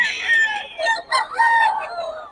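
Roosters and chickens crowing at a Bocaue gamefowl farm, several drawn-out crows overlapping in quick succession, close and loud, with no talk.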